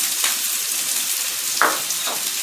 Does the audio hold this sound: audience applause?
no